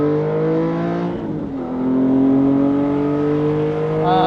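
A Porsche 718 GT4's flat-six engine roars at high revs on a race track, dips briefly as a gear is missed, then climbs again in a loud, steady whine.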